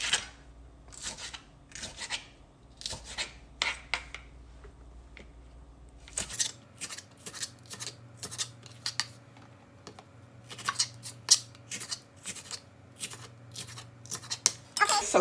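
A knife slices peppers into rings, giving crisp irregular cutting clicks in quick clusters that pick up in pace partway through, close and alone over a faint background hum.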